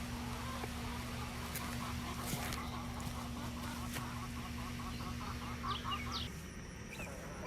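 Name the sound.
chickens eating scratch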